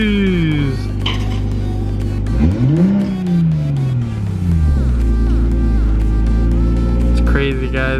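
A 2020 Toyota Supra with a new downpipe and its exhaust valves open revs hard in sharp, rising and falling blips, loud and close, with the engine settling into a rumbling idle between pulls and a voice talking over it.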